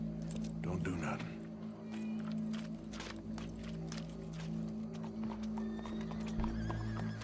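Horse hooves clip-clopping at a walk with a clear neigh early on, in the Western game Red Dead Redemption 2, over steady low ambient drones while a voice talks in the background.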